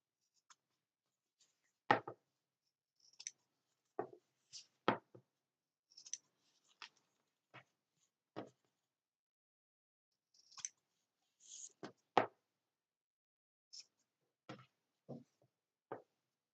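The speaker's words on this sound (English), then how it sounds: "So we're going to go through and clip everything right here." Sharp scissor snips trim the corners of a quilted project made from upcycled old napkins, roughly a dozen crisp, close cuts spaced irregularly with quiet gaps between, and no talking.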